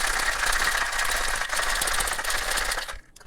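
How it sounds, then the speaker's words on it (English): Ice rattles hard inside a cocktail shaker as a Far North Rum Walnut Alexander is shaken with Alander spiced rum, a loud, dense, continuous clatter that stops abruptly near the end, with no talking. "Add some ice, and give it a shake."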